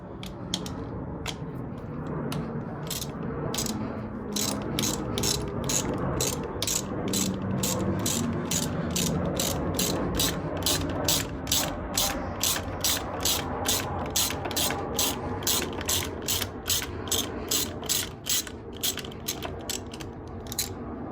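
A ratchet wrench clicks in quick regular bursts while removing a valve cover bolt on a 1995 Honda Civic engine. The dense metallic pawl ticks run close and steady for about twenty seconds, with no talking.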